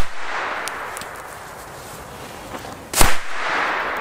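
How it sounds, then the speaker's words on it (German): A 1980s Georg Richter firecracker going off outdoors with a single sharp, loud bang, preceded by a hissing, crackling fuse and followed by lingering rumble. "der Georg Richter Böller aus den 80er Jahren"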